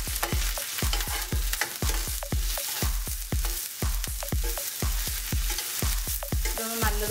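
Onions, curry leaves and green chili sauté in a pan for a Kottayam-style Kerala kappa biriyani, a steady loud sizzle broken by regular sharp scraping strokes of a spoon stirring throughout, with no talking.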